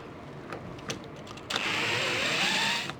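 A power driver whirs steadily for about a second and a half, backing screws out of the top hinge of a pre-hung door in a basement, after a few light taps and knocks.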